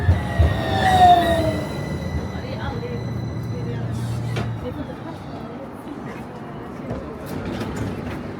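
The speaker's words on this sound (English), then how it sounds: "I'm gonna catch a ride here from the tram and get back" Gothenburg tram ride heard from inside the car, with a steady rumbling roll, a bright wheel squeal near the start and a low hum mid-clip; a voice talks over it.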